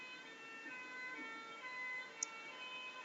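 An ambulance siren wails steadily at moderate distance, its tones sliding slightly as the vehicle passes, with one brief sharp click near the end.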